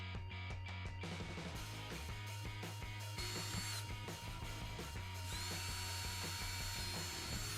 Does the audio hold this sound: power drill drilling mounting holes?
yes